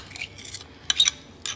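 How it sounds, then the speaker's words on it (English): A spoon stirs soup in a crock pot slow cooker, giving a few light metallic scrapes and clinks against the pot in short bursts, close and fairly quiet. "I'm gonna stir it up"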